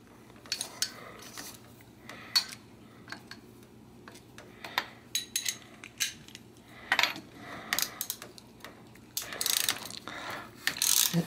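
A bottom bracket tool tightens a bicycle bottom bracket during a cottered to square-taper crank conversion, giving repeated clicking ratchet strokes in irregular bursts with pauses between, close and fairly quiet.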